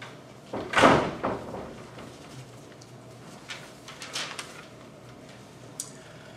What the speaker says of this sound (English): Close that door, or are we gonna yell down the hallway?